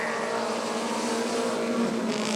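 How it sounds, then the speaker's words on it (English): Race cars roaring off at the green flag at Rockford Speedway during a winged women's feature, a dense, steady engine drone filling the whole clip with no talk over it. "Green flag, and we're racing."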